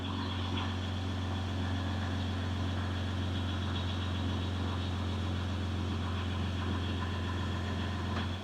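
A Jeep Gladiator engine idles steadily after an oil change at its 25,000-mile service, a constant low hum with a smooth, even drone and no voices, running close by for several seconds.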